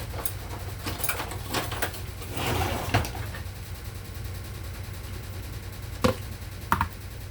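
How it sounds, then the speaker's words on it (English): A spatula stirs herbed cream cheese in a bowl, making scattered soft scrapes and a few sharp knocks against the side, close by and without talk. "let me go ahead and give it a stir with the spatula"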